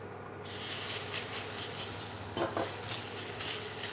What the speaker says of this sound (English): we'll continue by adding a little bit more oil and stir frying our chicken together